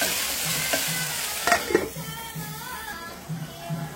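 Tomatoes with turmeric and chili powder sizzle and fry in a pan while a spoon stirs, scraping and clinking now and then against a steady close crackle.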